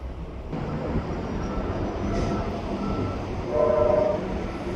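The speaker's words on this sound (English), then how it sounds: "Oh yeah, I can see the train now." A steady rumbling train passes nearby on the Queensboro Bridge, a continuous low roar of wheels on rails with a faint tonal beep or horn near the end.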